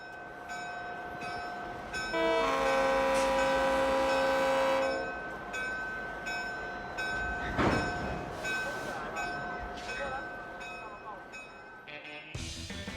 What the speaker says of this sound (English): let's take a ride aboard the Santa Cruz Big Trees and Pacific Railway